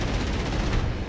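In the DCS flight simulator, gunfire hits an FW 190 Dora as a dense, loud, rapid rattle of impacts over a roaring engine, lasting about a second.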